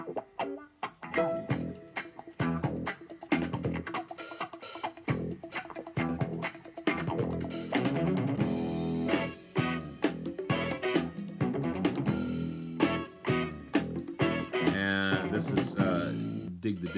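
An instrumental track spins on a vinyl turntable, a dense, busy rock-fusion band with punchy, syncopated bursts, playing loud and continuous from start to finish.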